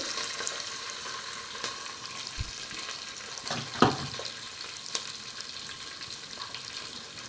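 Ginger and garlic fry in oil in a pan for beef curry, a low steady sizzle with a brief clatter of stirring midway, close and without any voices.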